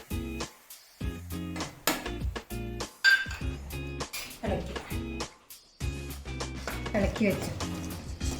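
Spoon stirring jaggery in a pan while making mulakapachadi, giving repeated clinks and scrapes against the metal over about eight seconds, with a voice talking throughout.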